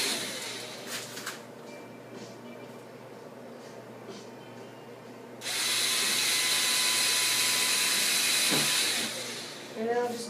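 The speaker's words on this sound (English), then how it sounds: "I'm pre-drilling holes into the top pieces" Power drill pre-drilling pilot holes in wooden top pieces for a cabinet shelf, a steady loud whirring burst of several seconds after quieter workshop handling sounds, then a short final spin.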